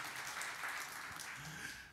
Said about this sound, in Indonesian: Tepuk tangan yang meriah bagi Tuhan Yesus.